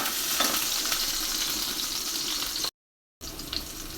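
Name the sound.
frying kalai greens with onion, green and dried chilies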